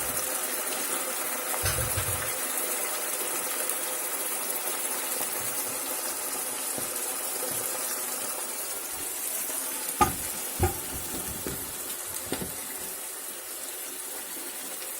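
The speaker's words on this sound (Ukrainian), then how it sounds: "Далі на розігріту сковорідку відправляю печінку." Chicken liver sizzles and crackles steadily in a hot pan, with occasional scraping clicks from a utensil over the hiss.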